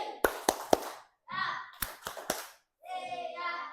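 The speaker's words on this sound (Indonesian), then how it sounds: "Oke, kita tepuk siap terlebih dahulu." A classroom of children does a rhythmic 'tepuk siap' clapping chant, with sets of three sharp claps alternating with the class chanting in unison, loud and close.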